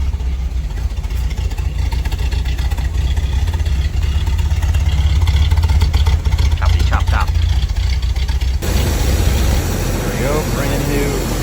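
A Sunbird engine idling with a choppy, lopey rhythm, a steady low rumble up close that holds throughout before the sound shifts near the end.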